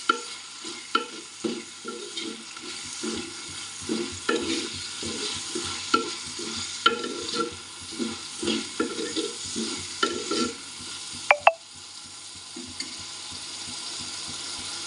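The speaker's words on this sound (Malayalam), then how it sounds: "പിന്നെ ഇതിലേക്ക് ഇതുപോലെ കട്ട് ചെയ്ത് വെച്ചിരിക്കുന്ന തക്കാളി കൂടി ചേർത്ത് കൊടുക്കാം." Tomatoes and green chillies sauté in a pan for a Kerala-style moru curry, a steady close sizzle broken by repeated rhythmic stirring scrapes and a sharper clatter near the end.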